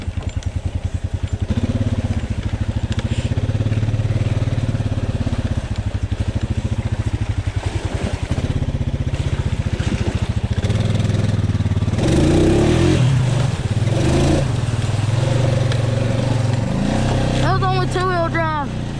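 An off-road vehicle engine rumbles loudly and steadily, revving as it pushes through a flooded mud hole on a trail, with a voice speaking over the engine near the end.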